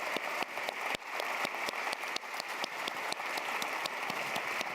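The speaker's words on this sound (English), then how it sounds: "so we can give you a big round of applause" A conference audience at the Hamburg Sustainability Conference applauds in a steady, crackling wash of clapping. Some individual claps stand out sharply over the crowd.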